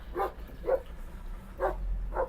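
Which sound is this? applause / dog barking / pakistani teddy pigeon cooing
dog barking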